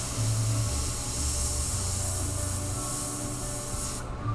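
An airbrush sprays paint in one continuous loud hiss lasting about four seconds, with a low hum beneath, then cuts off abruptly at the end.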